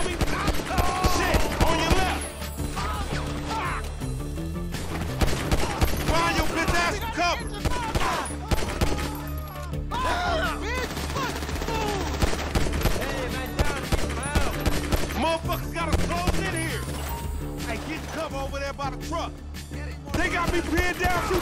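Sustained gunfight from GTA 5 story mode, with rapid bursts and scattered gunshots running throughout, loud and close, mixed with game music and voices talking.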